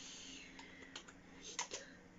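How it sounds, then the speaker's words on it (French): Faint, sparse clicks of typing on a computer keyboard, a few irregular keystrokes over a quiet, steady hum. "j'ai mon clavier"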